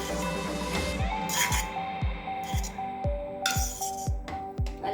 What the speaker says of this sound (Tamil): நெய் சேர்த்துட்டு நல்லா மிக்ஸ் பண்ணிக்கோங்க.